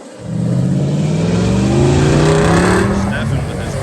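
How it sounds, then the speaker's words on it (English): A Quick Grip truck revs hard through rain-soaked mud holes on a second pass, its engine roaring loud and close in a rising, sustained drone, with people talking over it. "Stefan with his quick grip truck, second pass, a little more confident"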